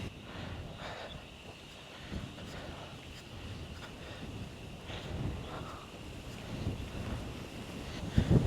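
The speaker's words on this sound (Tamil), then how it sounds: "அந்த அளவுக்கு காற்று அடிக்குதுங்க" Steady wind buffeting the microphone on a mountain trek in Tamil Nadu, a low rumbling roar that swells and gusts throughout, with sharper bursts near the end.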